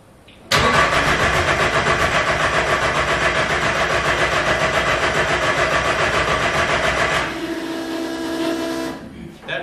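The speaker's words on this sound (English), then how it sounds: "Like it's popping back through the exhaust like it's firing." A Datsun 1600 engine cranks and catches, then runs with a rough, rapid pulsing chatter, popping back through the exhaust, for several seconds before settling into a lower, uneven idle.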